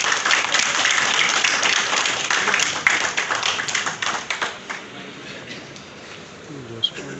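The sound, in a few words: applause, audience clapping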